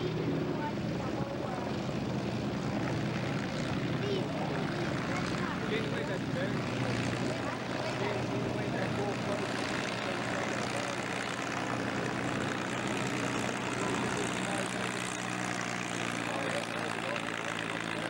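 A steady drone of a propeller aircraft flying nearby at an airshow, continuous and fairly loud, with faint background noise and no clear voices.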